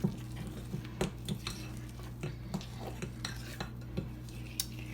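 A spoon stirs and scrapes banana bread batter in a bowl, giving close, soft squishing strokes with a few sharp clinks against the bowl spaced through the sound, and nobody speaking.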